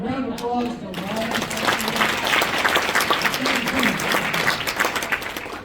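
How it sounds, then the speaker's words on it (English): Audience applause at a Kennesaw Business Association gathering for a man named Ryan, a steady crowd clapping that swells and holds for several seconds, with a voice talking over it at the start. "Round of applause for Ryan."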